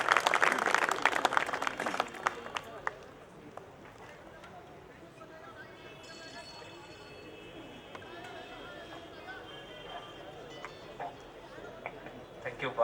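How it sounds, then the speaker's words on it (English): Audience at an academic ceremony applauds in a dense burst of clapping that fades after a couple of seconds into a quieter room with scattered sounds. "Everybody please give a big round of applause for Professor Muhammad Arif."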